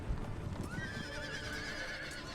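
Cavalry horses in a video game battle, a regiment of horse riding in, heard as a faint clatter of hooves with a drawn-out whinny rising over the low battle noise.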